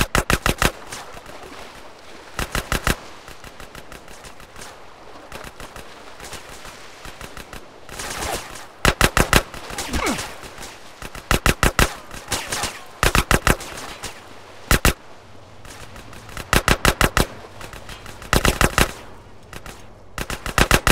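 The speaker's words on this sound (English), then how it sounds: "Yes, a gun." Automatic gunfire from an M4 rifle in the video game GTA San Andreas, loud bursts of rapid shots repeating every few seconds over a constant low game background.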